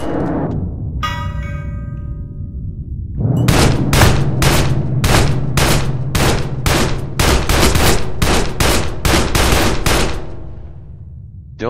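Rapid automatic gunfire in the People Playground game: a loud, steady burst of about a dozen evenly spaced shots that keeps going for several seconds, then gives way to fading reverb.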